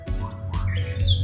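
A canary chirps in short bright bursts and rising tweets close by, over a low steady background hum.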